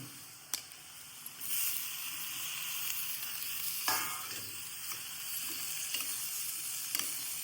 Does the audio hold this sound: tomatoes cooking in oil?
yes